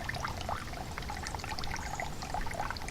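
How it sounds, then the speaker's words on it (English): A cup of water poured out at a wilderness campsite, a faint, steady trickle and splash at low volume with no talking. "We'll pour out a cup of water"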